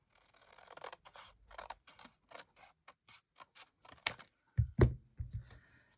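Scissors snipping a piece off, a series of short crisp cuts in a steady rhythm, close and clear in a quiet room, ending with a few heavier clacks and handling thumps.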